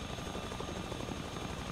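Helicopter rotor and engine drone from the survival shooter game The Front, a steady, dense whir holding at even loudness throughout with no talk over it.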